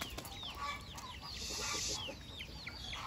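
Hens in a coop give repeated rising clucks and squawks, the cackle of a hen laying an egg, several calls overlapping at moderate distance over a quiet background.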